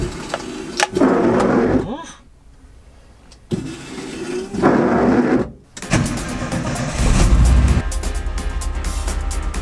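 A Volkswagen Kombi van with a worn, rusty body starts up and drives off, its engine rising to a steady loud rumble with rattling after brief gaps, while people talk over it.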